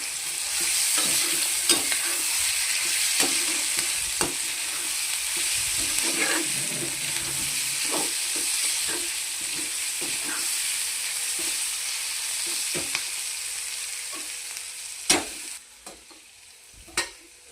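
Wheat noodles fry in a hot pan with a steady sizzling hiss while a utensil stirs them, giving irregular scraping taps against the pan throughout and a few louder clacks near the end.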